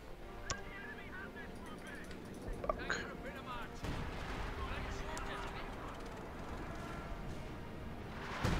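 Artillery fire destroys a mortar pit in Company of Heroes 2, with scattered gunfire, booms and explosions at low level in a busy battle mix, while people talk over it.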